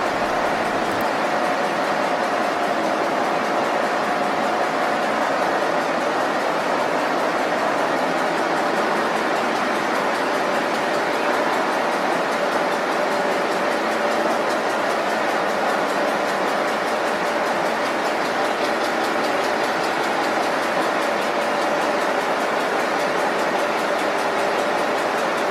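A Cooper-Bessemer GMV-10 gas compressor engine running, a loud, constant mechanical roar and hum that stays steady throughout with no voices.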